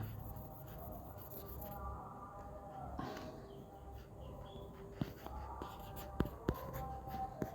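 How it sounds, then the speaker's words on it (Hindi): Writing on a board in a Sanskrit lesson comes as soft, close scratching and a few sharp taps under faint background hum, with a voice nearby. "मैं लिख देता हूँ उसको"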